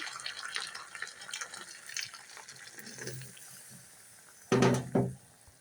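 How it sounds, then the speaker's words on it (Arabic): Hot water poured over sautéed chicken in a cooking pot gives a steady splashing and sizzling hiss, ending with two louder splashing bursts close by. "ودلوقتي ما شاء الله الفراخ فكت واتشوحت كويس جدا، هنزل عليها بقى بميه سخنه"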